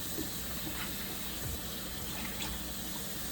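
Celery is rinsed under running tap water: a steady close stream of water pours and splashes continuously, with small knocks of the stalks against the sink, and nobody talks.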